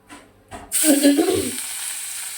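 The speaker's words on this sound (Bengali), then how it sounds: "মাছ রান্না করছি। মাছ রান্না না, তো ভাজা খাবো।" Fish hits hot oil in a wok with a sudden loud, close sizzle that flares up, then settles into a steady crackling hiss after a few faint clicks.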